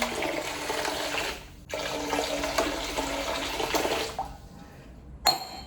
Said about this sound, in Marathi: आणि हा पाणी तर टाकायलाच लागेल ना.